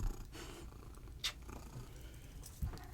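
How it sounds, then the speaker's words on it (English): A cat purring, a faint, low rumbling purr held throughout at close range, with a few brief soft rustles and clicks over it and no talk. "she's purring like crazy"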